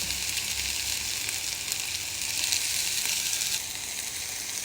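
Long beans frying in a pan with mustard seeds, cumin and fresh curry leaves give a steady, dense sizzle close by, even and unbroken throughout.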